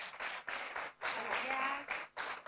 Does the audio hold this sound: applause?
yes